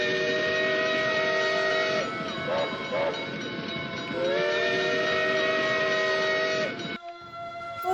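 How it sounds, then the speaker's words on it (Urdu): A slow-moving train sounds its whistle in long sustained tones that shift pitch, over steady rolling rumble, before the whistle abruptly cuts off near the end. "ٹرین آہستہ آہستہ سیٹی بجاتی ہوئی چل رہی تھی۔"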